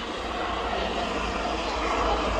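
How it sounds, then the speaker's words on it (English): A helicopter passes overhead as a steady broadband engine and rotor roar, moderately loud and unbroken throughout, with no clear voices. "Oh, there's a helicopter."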